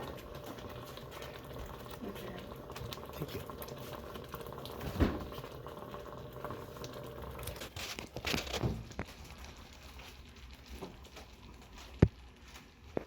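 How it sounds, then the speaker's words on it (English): Blackberry jam boils in a pot, giving a soft continuous bubbling and popping texture at low level, with a few louder clatters and brief voices nearby. "Really boiling now."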